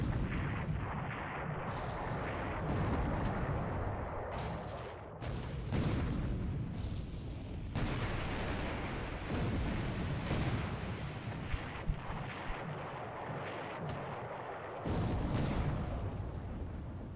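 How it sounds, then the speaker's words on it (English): In a World War II naval war game, gunfire and shell hits land on a destroyer as a rapid series of deep booms and blasts. They continue without a break, one after another, with no voices. "4-inch shell hit on my other destroyer"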